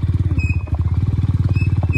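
A motorcycle engine idling and rolling slowly on a jungle off-road trail, close and steady, with a rapid regular low thumping pulse throughout and no talk.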